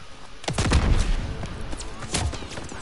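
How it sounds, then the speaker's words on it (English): Artillery shells pound a beach in the World War II video game Call of Duty WW2, with a rapid series of loud booms and gunfire bursts rolling together over a dense battlefield din. "They're shelling that beach to shit!"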